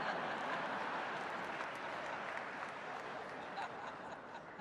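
A crowd at a Martin Luther King Jr. birthday celebration claps steadily. The dense, even applause sounds soft and somewhat distant, with faint chuckles and murmurs mixed in.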